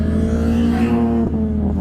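A Honda Civic engine revs loudly and close by, holding a strong, steady buzzing tone that dips briefly near the end.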